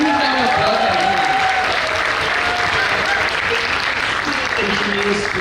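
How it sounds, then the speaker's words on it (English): Loud, sustained applause from an audience at a literature festival in Vadodara, dense and steady throughout, with faint voices and crowd murmur mixed in beneath the clapping. "that's a huge round of applause, everyone."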